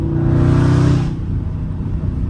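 A loud Dodge Scat Pack's engine roars under a hard pull, a deep throaty rev that holds strong for about a second, then drops into a lower rumbling drone as the car keeps moving.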